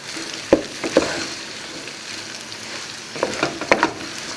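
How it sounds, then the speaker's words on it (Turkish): Rice and leeks sizzle and fry steadily in a pan while a utensil scrapes and stirs in a few short bursts, close by. "Bir iki tur daha karıştırırsak yeterli olacak."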